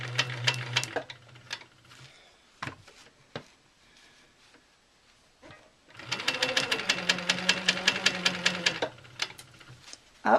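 Sewing machine stitching a quilt block seam, a short burst of rapid needle clatter, a few isolated clicks and pauses, then a longer fast, even run of stitching.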